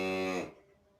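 A single cow's moo, close and clear, ending abruptly and fading into quiet background noise.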